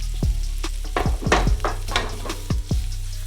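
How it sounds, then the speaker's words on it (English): Lobster pieces sauté with garlic in a pan: a close, constant sizzle punctuated by sharp clinks and scrapes as the pan is tossed and stirred, with no voices. "Next, we're gonna throw our lobster right in."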